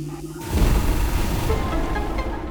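A heavy blast bursts out after a short quiet lead-in, breaking open a wall in Metroid Prime Remastered; a loud, dense rumble follows and lingers close and steady to the end.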